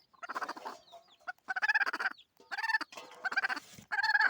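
A broody hen clucks close by in a small home chicken farm, giving four or five bursts of rapid, throaty clucking separated by brief pauses, loud and alone.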